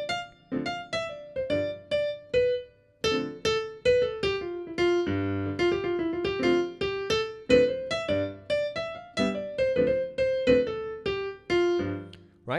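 Solo jazz piano improvises with a swing feel over a steady metronome pulse, with crisp, evenly spaced notes and chords in a lively, continuous line for about twelve seconds, with no voices.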